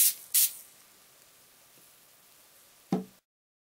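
SofSole instant shoe cleaner sprayed onto a shoe: two short close spray bursts, a quiet pause, then a third brief spritz.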